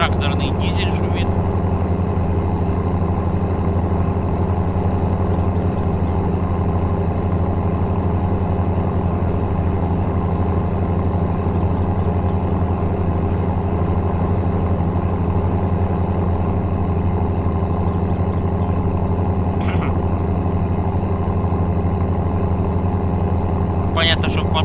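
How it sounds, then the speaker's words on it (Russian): A tractor's diesel engine runs in the driving game BeamNG as a steady, loud, droning mid-pitched hum that holds without a break, with a few faint clicks on top. "Тракторный дизель шумит."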